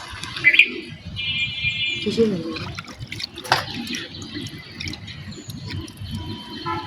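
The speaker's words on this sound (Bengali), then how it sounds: "ভাতের ফ্যানটা ঝরিয়ে দেবে" Starchy water drained from a pot of cooked rice, a modest pouring and dripping trickle with a few clinks of the pot and lid, close by in a home kitchen.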